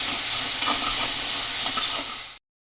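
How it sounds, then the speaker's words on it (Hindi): Paneer stir-fried with green chilli sauce in a hot pan, a loud, close, continuous sizzle with faint scraping stirs, cutting off suddenly near the end. "स्टर फ्राई किया मैंने।"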